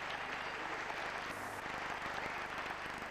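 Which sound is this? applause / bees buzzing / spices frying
applause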